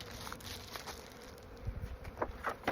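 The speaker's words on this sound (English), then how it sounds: "So we've got live bees in this hive for sure." Live honeybees at a hive, a soft, steady buzz heard at low level, with faint rustles and light taps from handling the hive equipment nearby.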